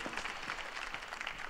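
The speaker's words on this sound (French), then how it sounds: "Je pense qu'on peut les applaudir pour tous ces beaux projets qui viennent de vous être présentés." Audience at a French workshop on tourism and biodiversity clapping after project presentations, a brief, fairly faint patter of many hands with no voices.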